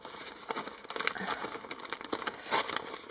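Gift wrapping paper is torn and crinkled while a present is opened, with close, rustling rips in quick bursts and a louder tear near the end.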